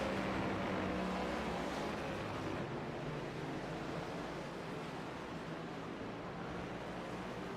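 Race cars in the iRacing video game circle the Red Bull Ring in a NextGen Cup Series race, with a steady, loud engine roar and passing whoosh running throughout without pause.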